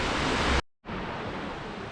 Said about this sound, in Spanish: ahora que ya habéis visto la cascada